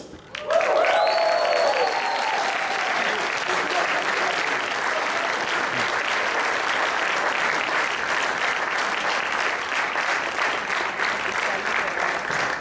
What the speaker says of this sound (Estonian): Ja eriti suur aplaus kindlasti Jorma Toots.